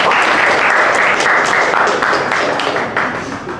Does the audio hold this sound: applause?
yes